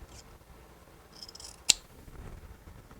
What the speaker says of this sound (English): This one trimmed up just a little bit here.